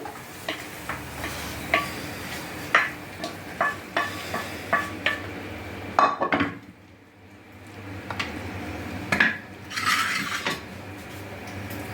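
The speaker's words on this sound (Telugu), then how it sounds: "ఇప్పుడు బౌల్లో ట్రాన్స్ఫర్ చేస్తున్నాను" A spoon scrapes and taps repeatedly as egg and dried prawn curry is scooped from a pan into a bowl, with clinks of metal on cookware and a short quiet pause midway.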